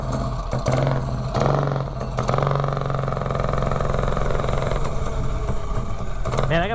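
A mini bike fitted with a seven-foot exhaust and three-foot intake runs at steady speed on a top-speed ride, its engine droning loud and close with a constant pitch throughout.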